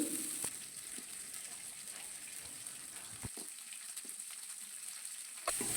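Onion, curry leaves and green chillies frying in oil in a pan in a home kitchen, a steady low sizzle with a few soft stirring clicks, heard alone without talk.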